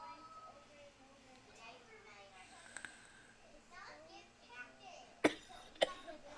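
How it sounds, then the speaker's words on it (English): A man coughs twice near the end, two sharp close bursts after a stretch of quiet background sound in a room where someone vapes. "That coughing, man."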